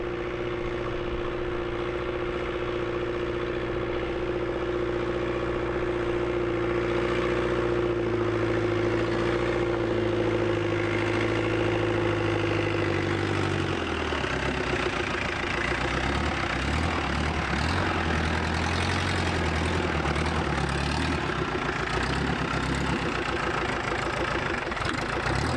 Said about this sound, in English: The revived Toyota Crown moves under its own power